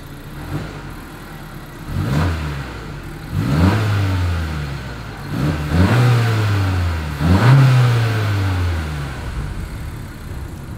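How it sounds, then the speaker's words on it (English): A 2021 Honda CR-V engine revs up several times through its exhaust, each climb falling back to a steady idle, heard close and loud with no talk. "Here is that exhaust clip."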